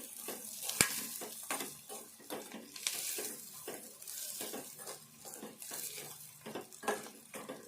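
Onions softening in a pan with salt and chili powder for a curry, a continuous sizzle broken by regular scraping stirs of a utensil against the pan, close and fairly quiet, with no talking.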